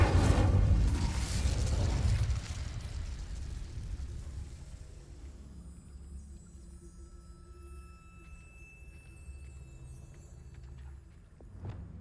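An Incendio fire spell goes off in the Hogwarts Legacy video game: a loud booming burst that rumbles and fades over several seconds into quiet ringing tones, with a small thump at the end.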